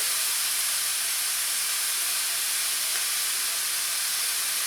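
Sliced mushrooms sizzling in a thin layer of olive oil, a steady, loud, broadband hiss that runs unbroken and close with no voices over it.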